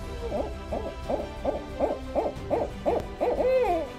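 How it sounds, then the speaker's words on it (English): A barred owl hoots in a rhythmic series of about nine evenly spaced calls from a bottomland river forest, ending in a drawn-out descending note, clear and moderately near. "listen closely to the barred owl's barking, "Who cooks for you?" sound"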